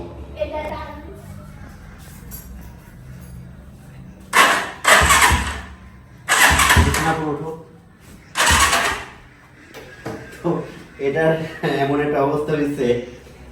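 An engine cranks in repeated grinding bursts that never catch, three or four attempts spaced a second or two apart, with people talking over and between them.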